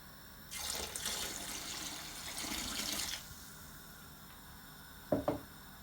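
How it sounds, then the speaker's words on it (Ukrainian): Half a litre of water gushes steadily into a pot of red-fish soup for about three seconds, a soft hissing pour, followed by a quiet pause and a couple of brief clinks near the end. "І доливаємо пів літри води."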